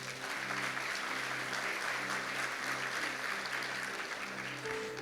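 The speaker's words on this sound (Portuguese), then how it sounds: "Você pode dar um aplauso a Ele?" A church congregation claps in sustained, even applause for several seconds, with a soft sustained keyboard tone playing underneath.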